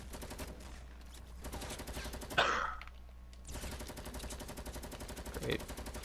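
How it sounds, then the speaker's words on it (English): Rapid bursts of gunfire in the video game Fortnite, with a sharp, louder crack midway and continuous rattling shots through the rest, heard at moderate distance in a busy game mix. "they're shooting at someone else"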